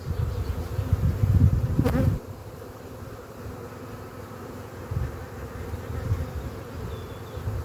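Honeybees buzz steadily around an open frame pulled from a hive, a dense close drone that is loudest in the first two seconds and then continues at a lower level throughout.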